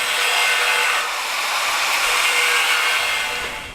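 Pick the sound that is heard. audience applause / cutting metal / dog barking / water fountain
cutting metal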